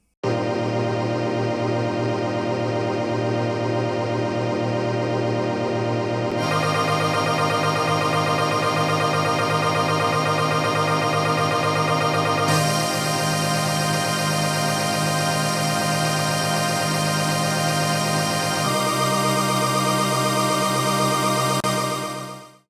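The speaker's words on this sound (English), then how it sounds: "I layered this lead with these grains that sound like this" A sustained synth lead layered with grainy, shimmering granular synth grains beneath it, shifting in steps every few seconds, steady and loud with no talking.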